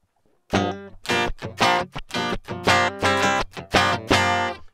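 A clean electric guitar recorded direct through the DI preamp of an Audient iD14 MkII interface plays a choppy run of short strummed chords and notes, dry and close, with brief gaps between each attack.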